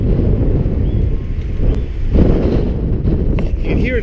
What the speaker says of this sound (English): Gee, it's windy up here.